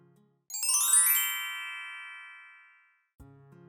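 A phone chimes in a domestic drama scene, a single bright ringing tone that strikes sharply and decays slowly over about two and a half seconds, then a brief low tone follows after a short silence.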